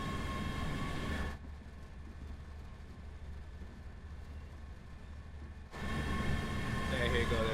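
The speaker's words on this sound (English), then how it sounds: "You can hear those engines come to life." Engines of a British Class 385 electric train in Train Sim World 5 hum and build steadily, a constant rail rumble that drops quieter midway, as if muffled, then returns louder near the end.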